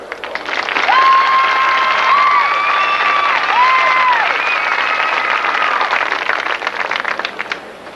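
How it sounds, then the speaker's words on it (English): A crowd watching a high school marching band competition breaks into loud, sustained applause with some cheering. Faint tones run over it, and it tapers off at the end. "Let's give them a big round of applause."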